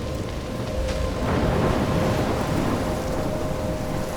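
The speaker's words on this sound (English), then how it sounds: "I'm trapped in a storm." A thunderstorm with heavy rain in the video game Life is Strange: a dense, steady downpour with rolling thunder that swells in the middle and then eases.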